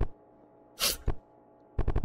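A single sharp sneeze bursts out in a pizzeria horror video game setting, a brief loud hiss standing alone between quieter stretches, followed by a quick run of rapid clicks or taps.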